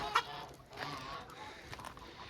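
Chickens cluck faintly on a farm that also keeps geese and ducks, with a brief louder call near the start followed by soft, scattered clucks in a quiet setting.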